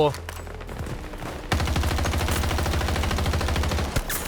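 Rapid bursts of M16A3 rifle fire in Battlefield 2042, a fast, loud, evenly spaced chatter of shots that starts abruptly and carries on for a few seconds, with someone talking faintly before it.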